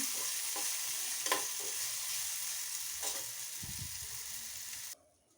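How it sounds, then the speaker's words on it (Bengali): Overripe bitter gourd fries in a pan with a constant bright sizzle and occasional stirring scrapes, and the sound cuts off abruptly near the end. "একটু উচ্ছে ছিল উচ্ছেটাকে ভেজে নিচ্ছি"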